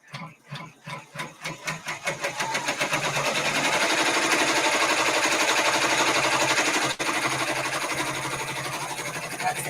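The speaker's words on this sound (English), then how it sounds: "It's going to sew the placement stitches now for" A multi-needle embroidery machine sews placement stitches, starting with a few spaced thumps that quickly build into a loud, rapid, steady mechanical chatter, with one brief hitch near the end.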